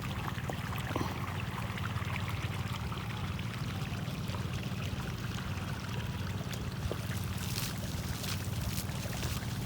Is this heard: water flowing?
yes